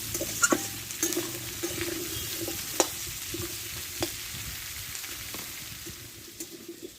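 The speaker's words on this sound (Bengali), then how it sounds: "মাছের তেলে সবজিটা ভালো করে কষে নেবে" Vegetables sauté and stir in fish oil in a pan, with a steady soft sizzle and occasional sharp scrapes and clicks of a spoon. No voices are heard.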